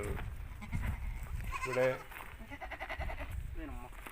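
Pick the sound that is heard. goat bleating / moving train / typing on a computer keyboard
goat bleating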